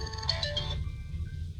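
A telephone ringtone plays in a brief burst of bright repeating electronic tones under a low background hum at a live press conference, then cuts to quieter steady tones.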